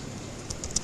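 A computer keyboard clicks under someone's fingers in a short burst of a few quick, close keystrokes, sharp and light against a quiet room, with no voices.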